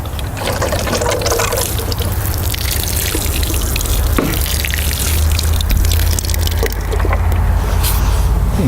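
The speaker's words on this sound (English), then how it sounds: "Give it some water." Water poured onto freshly planted cilantro in a container pot, a loud, steady splashing and trickling stream running close by for several seconds, with no talking.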